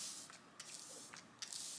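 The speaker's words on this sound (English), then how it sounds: "I'll go on with a setting spray right now. This is the Lawless setting spray" Lawless setting spray misted onto a face during a fall makeup routine: several short, soft hissing spritzes in quick succession, faint and close, with no talk.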